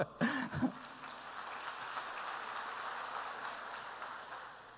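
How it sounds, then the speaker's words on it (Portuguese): A church congregation applauds during a worship service, a dense, even wash of many hands clapping that swells after a few sharp opening sounds and holds steady before easing slightly. "Dê um aplauso ao Senhor."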